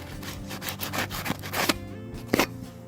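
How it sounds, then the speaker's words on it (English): Coarse 80-grit sandpaper rubbing a bicycle part by hand, close and fairly quiet, in short uneven back-and-forth strokes with a few sharper scrapes. "you can do it with some sandpaper like this one. 80, you see 80 is good because it's the most rough."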